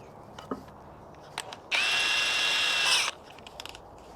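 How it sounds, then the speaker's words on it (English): A power drill with a 1/8 inch bit bores through wood in a single loud, steady whine lasting over a second, framed by scattered clicks and handling taps in a quiet space. "I'm going to drill a hole right through the center here with about an 1/8 inch drill bit."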